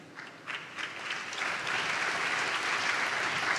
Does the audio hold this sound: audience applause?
yes